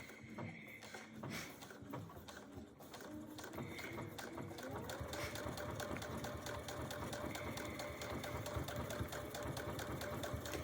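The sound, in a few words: sewing machine quilting with hand-look quilting stitch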